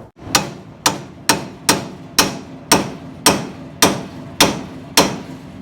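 Eleven crisp, evenly spaced metallic taps as a pickle fork drives a boot into place on a 1962 Cadillac with a Jetaway transmission, each tap close and ringing briefly.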